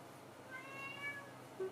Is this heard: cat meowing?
yes